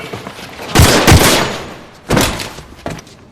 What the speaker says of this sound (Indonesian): Kate tiba-tiba ditembak oleh Alejandro karena dia menodongkan senjatanya tepat ke arah Alejandro